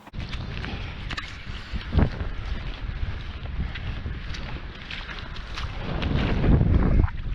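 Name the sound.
wind blowing at a beach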